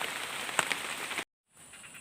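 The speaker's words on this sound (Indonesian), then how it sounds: "karena ini cuaca hujan terus ya, banjir" Heavy rain comes down in a dense steady hiss with a few nearer drops, cut off abruptly by a short silence before the rain noise returns more faintly.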